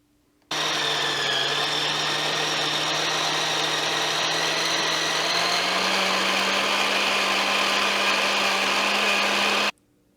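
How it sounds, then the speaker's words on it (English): Food processor blade spinning steadily through pistachio and fresh basil pesto, a loud continuous motor whir with a slight pitch rise midway, running alone from start to stop. "we're going to continue to run the blade while we slowly add the"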